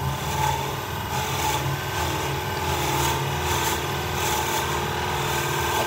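Steady whirring machine drone with a low motor hum, continuous and fairly close, as a lathe slowly drills a square wooden pen blank; no talking.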